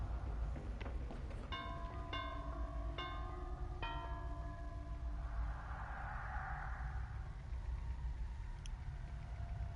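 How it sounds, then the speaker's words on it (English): A killer's bell in a PS4 horror game rings out as several bright, sustained chimes in quick succession over a steady background drone, each fading out before a softer wash of noise follows. "Yeah, you can hear the bell everywhere."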